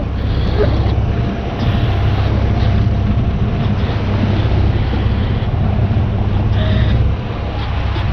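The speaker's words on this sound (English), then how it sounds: "There's a boat coming behind us." A steady boat engine drone mixed with heavy wind buffeting and rushing water, continuous and loud throughout, as another boat approaches from behind at sea in the Hebrides.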